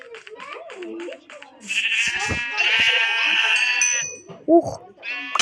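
Sheep bleat repeatedly in long, wavering cries, several overlapping at close range, with other voices and farmyard noise around them.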